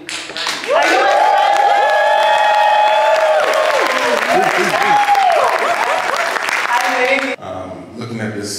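A lively crowd at a gathering in Kenya claps loudly with cheers and whoops for about seven seconds. The noise then cuts off abruptly to quieter sounds.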